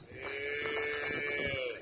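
A dairy cow on a farm lets out one long, drawn-out moo at moderate distance, with faint farmyard background and no speech.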